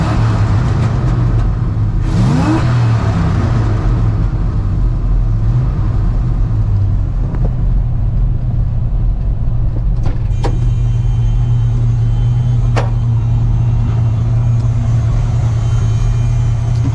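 Steady low engine drone and road rumble from inside the cab of a 1971 Chevrolet C20 Custom Deluxe pickup with a 350 V8, the exhaust muted and distant, with a brief revving sweep early on and no talking.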